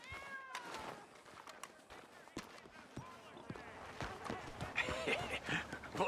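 A cat meows in the Red Dead Redemption 2 video game, a few short mews mixed with scattered clicks and footsteps under soft background ambience.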